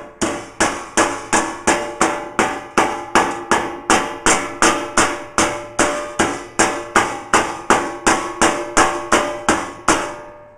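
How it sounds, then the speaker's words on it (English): Sheet metal on a Willys Jeep front panel is struck steadily by a plastic hammer, some two dozen sharp, regular blows sounding close and loud, one after another for about ten seconds with no talking. "plastic hammer"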